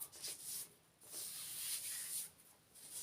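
Velvet and sheer gloves slide up an arm in soft, close fabric rubs and hissing swishes, coming in a few quiet strokes with short pauses between them.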